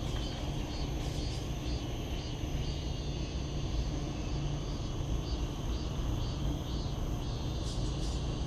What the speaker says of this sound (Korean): 그 매미 소리가 정말 매년 한여름이 되면은 들을 수 있는 소리입니다.